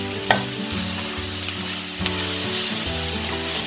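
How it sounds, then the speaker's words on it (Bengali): Okra fries in a pan with a steady, bright sizzle while a utensil stirs it close by, adding a few soft scrapes and taps. "এখন এটাকে আমি নেড়ে চেড়ে দিয়ে ঢাকা দিয়ে রেখে দিব তাহলে আমার ঢ্যাঁড়স ভাজিটা হয়ে যাবে"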